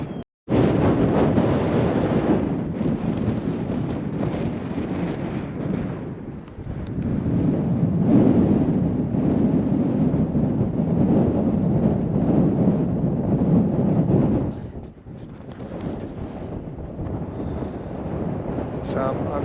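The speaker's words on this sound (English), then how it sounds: "I don't know whether you can hear me over the wind." Strong wind buffets the microphone on an exposed Dorset hilltop by a Neolithic causewayed enclosure and Iron Age hill forts, a loud continuous roar that surges and eases in long gusts with no break.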